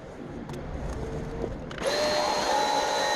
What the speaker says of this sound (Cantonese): 我再根據呢個鋸闊再鋸出左右2塊側板